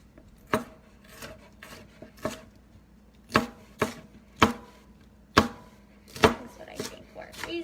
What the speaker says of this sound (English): I like to slice my peppers and then